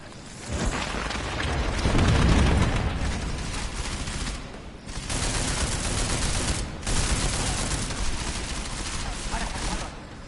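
Sustained gunfire in Deus Ex, a dense loud fusillade of shots and booming impacts lasting several seconds with brief pauses between bursts, under faint game ambience.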